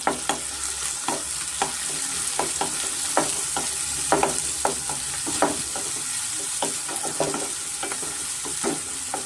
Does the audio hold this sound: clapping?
no